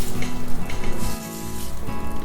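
Fermented rice and urad dal dosa batter sizzles on a hot pan at home, a close, loud, crackling frying hiss that stays continuous through the short stretch with light stirring clinks.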